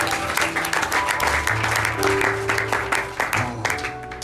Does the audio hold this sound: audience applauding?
yes